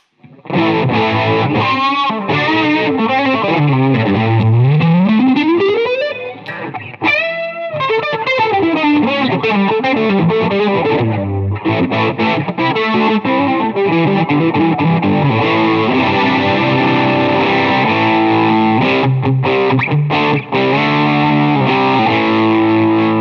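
Heavily distorted electric guitar through a small Henriksen BUD amp with a 6-inch speaker plays continuously and loud, with sweeping bends and sustained riffs, crunchy and saturated throughout, no voices.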